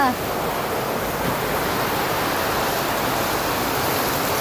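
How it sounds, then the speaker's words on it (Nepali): Heavy monsoon downpour during the Asar rains in Nepal, a loud, steady and unbroken roar of rain hiss that fills the whole stretch without pause. "बरबिराको ठाउँमा पनि पानी पऱ्यो है साथीहरू"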